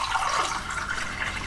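Desalinated seawater rushes from an opened tap, a steady close hiss of running water.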